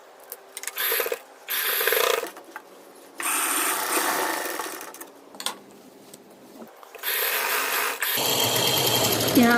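A sewing machine stitches a blouse lining to the main fabric in several loud, mechanical bursts of whirring and clicking, separated by short pauses.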